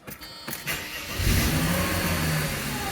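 A Mercedes SL320 (R129) engine cranks briefly and catches, settling into a steady, close idle with no voices.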